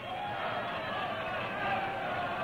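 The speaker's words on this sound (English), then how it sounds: "And the crowd goes wild." A dense crowd roars steadily at a wrestling bout, a constant loud wash of cheering with no breaks, heard alone for the whole short stretch.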